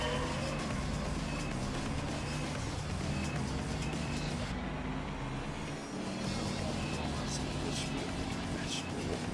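A mid-range Mercedes SLK engine drones steadily in Gran Turismo 3, a sustained engine hum with shifting pitch as the car runs, broken by a brief dip midway, with background noise throughout.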